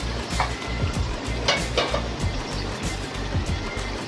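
Khaskhas masala cooks on a low flame with a steady close sizzle and bubbling, and a few light clinks of a utensil against the pan.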